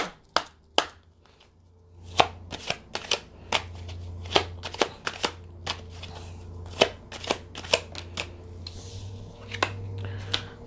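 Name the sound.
shuffling and drawing tarot cards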